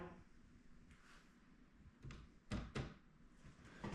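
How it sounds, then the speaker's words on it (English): Several light taps and knocks on a dog kennel door, a few soft isolated hits followed by two sharper knocks close together, faint and close with no talking. "Tap on the door a little bit."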